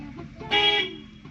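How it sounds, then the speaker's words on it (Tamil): A single short, loud car horn honk, brief and close, against quiet low engine rumble. "வளைய வரும் போதெல்லாம் ஹார்ன் அடிக்கணும்"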